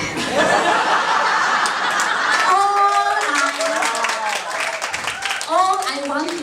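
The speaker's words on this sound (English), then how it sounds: "I think we should clap for him." An audience claps and laughs together, with voices calling out and chuckling over a lively patter of hands.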